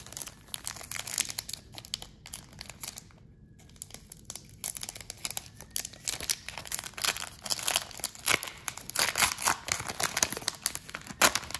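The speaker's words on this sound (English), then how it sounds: "let's go ahead and rip that open, see if we can pull any cool cards out of this Japanese set" A Japanese Pokémon Fusion Strike card pack is torn open by hand. Close, continuous crinkling and tearing of foil wrapping runs throughout, with a brief pause partway through.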